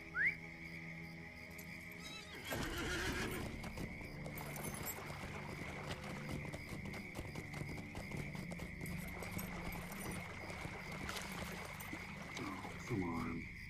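Horse hooves clip-clopping with a neigh in the LOTRO (Lord of the Rings Online) video game, steady galloping rhythm under game music and ambience, a short whinny near the start, with talking heard.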